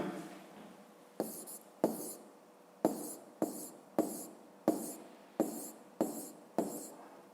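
Pen or pencil writing numbers by hand on paper during a fifth-grade maths exercise: ten distinct scratchy strokes in an uneven rhythm, close and fairly quiet, with no talking.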